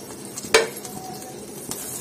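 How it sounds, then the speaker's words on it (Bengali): Three dried chillies fry in leftover fish oil in a pan, giving a soft continuous sizzle broken by a sharp metallic scrape of a spoon and a fainter stir later, close and with no talk. "এই মরিচটা তেলের মধ্যে ভেজে নেব।"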